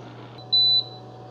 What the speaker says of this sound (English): it does kind of beep at you when it's done